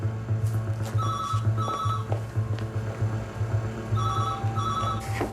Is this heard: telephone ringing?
yes